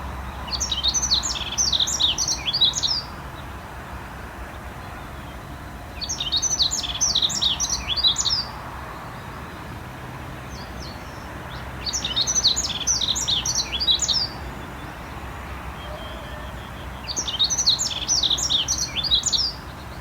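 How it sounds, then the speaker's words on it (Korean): A yellow-throated bunting sings four short, bright chirping phrases, one roughly every five seconds, each about two seconds long, fairly faint over a soft, steady outdoor background hum. "한번 노랑턱 맷새의 노래를 들어보겠습니다"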